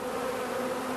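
Honey bees buzz steadily at a hive entrance as foragers come and go, a dense continuous droning hum close by.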